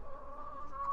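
Hens clucking softly at a farm with a mobile egg-laying coop, a low continuous murmur of calls close by for about a second.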